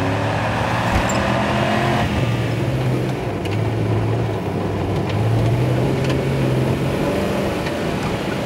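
A vehicle engine runs steadily in a film scene, a continuous low rumble with slight shifts in pitch as it idles and pulls away, accompanied by a dense background of road noise.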